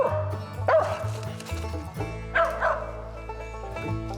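A mountain feist dog barks at a squirrel up a tree during a squirrel hunt, giving repeated yipping barks at a moderate distance, with whimper-like tones in between.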